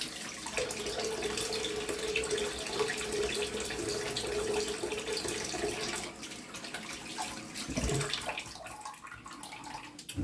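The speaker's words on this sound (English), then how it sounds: "we're going to go ahead and add some water here for pass 2" Tap water running steadily into a sink for working up shaving lather, a continuous close hiss with a faint tonal hum, briefly shifting near the end.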